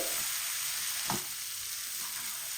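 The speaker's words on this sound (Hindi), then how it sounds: "और इनको अच्छी तरह आपने ऑयल के अंदर मिक्स करना है।" Okra and egg being stirred together in hot oil over a medium flame, a steady close sizzle and hiss with a soft scrape of the stirring spoon just past the one-second mark.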